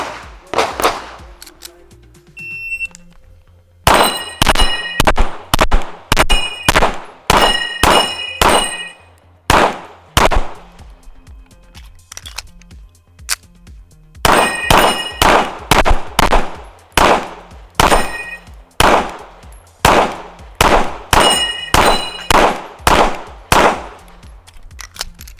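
Rapid pistol shots from a Steyr ATC, each followed by the bright ring of steel plates on a spinning Texas star target, fired in quick bursts with short pauses between strings, loud and close.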